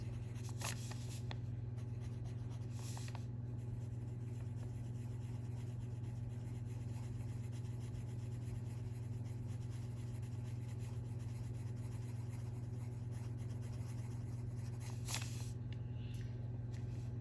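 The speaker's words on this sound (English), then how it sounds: "just by going over it with the pencils a few times." Soft, continuous scratchy rubbing of Black Widow colored pencils on paper, steady and close, with a low hum underneath and a couple of brief louder strokes.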